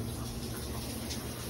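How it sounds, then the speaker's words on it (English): Cold water runs steadily in a home shower, a dense, even rushing spray that fills the space without pause, close by and with no one speaking. "Let's see how he likes a little cold water."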